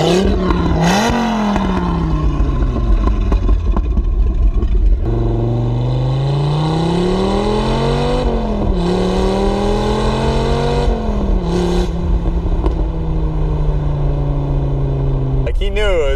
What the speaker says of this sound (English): why is this car so loud?